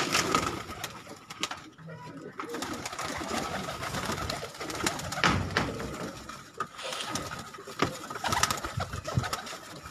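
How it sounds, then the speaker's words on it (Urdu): Breeder pigeons coo in soft, repeated throaty rolls close by on a rooftop in Karachi, with several birds overlapping and some light rustling around them. "یہ بریڈر کبوتر ہے"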